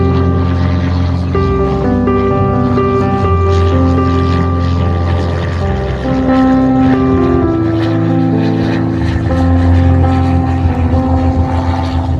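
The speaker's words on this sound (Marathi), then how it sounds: "समोर फ्लाईट आहे आणि हा रनवे राहिला." An airplane on an airport runway near Baramati, a steady loud engine drone with sustained tonal hum and broadband roar throughout, no talk over it.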